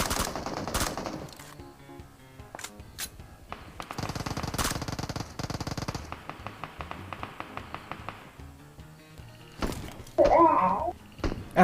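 Rapid bursts of gunfire and single shots in a shooting video game, crackling in clusters with sharp taps and thuds, close and loud, with a voice talking over parts of it.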